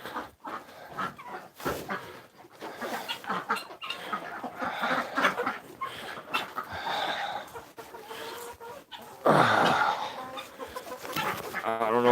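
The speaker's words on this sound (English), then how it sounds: "see the chickens or not" Chickens on a farm cluck repeatedly at close range and fairly loud, their clucking continuing steadily with irregular bursts, alongside other farmyard noises and no speech.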